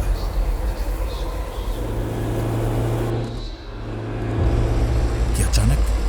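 A car on an empty, deserted road picks up speed, its steady engine roar swelling toward the end. A voice talks over the engine.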